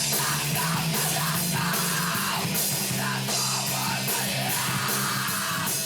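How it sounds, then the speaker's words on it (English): A band plays loud, dense rock with dark, angry screaming vocals, a harsh continuous wall of distorted sound with yelling throughout. "That's not a band. That's dark, angry screaming."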